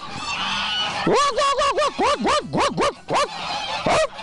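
Several geese honk loudly in rapid, overlapping bursts, harsh rising-and-falling calls close by, sounding agitated as they squabble.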